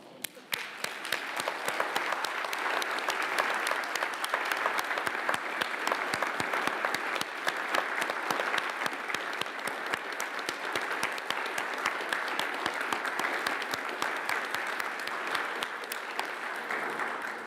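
Graduation conferring ceremony audience applauding, a steady, dense wash of many hands clapping from a large crowd, sustained evenly throughout.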